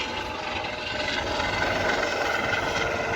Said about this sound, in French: C'est le nouvel hélico du port du Havre.